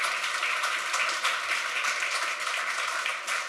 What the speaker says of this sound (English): Give a round of applause to Ashwin.